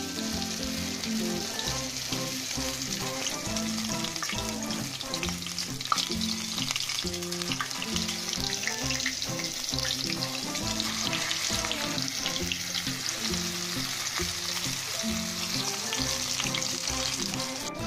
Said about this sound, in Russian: вот жарится наша последняя партия беляшей